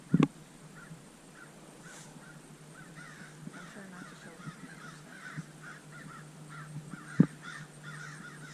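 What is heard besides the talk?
crows cawing in the background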